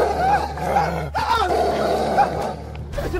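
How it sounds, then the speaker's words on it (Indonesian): A werewolf monster growls as a horror sound effect inside a quiet house, a deep, rough, continuous snarl with rising and falling strained tones that stays loud for the whole stretch. "Siluman serigala!"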